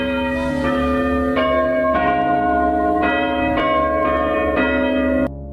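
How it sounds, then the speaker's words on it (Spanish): A bell ringing repeatedly in a steady rhythm, bright and sustained, each strike overlapping the previous ring before it stops abruptly. "Después sonó la campana de salida."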